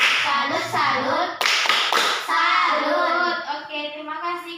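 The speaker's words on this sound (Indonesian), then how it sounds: "Berikan tepuk salut untuk Askia dan Destri." Children in an Indonesian primary school class clap a rhythmic applause chant, loud and close, with brief clapping bursts mixed with chanting voices.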